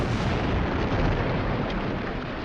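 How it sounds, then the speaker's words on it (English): The battleship Maine blows up in Havana Harbor at night, the explosion heard as a loud, sustained, broadband roar that fills the clip and eases off only slightly toward the end. "an explosion rocked the front end of the ship."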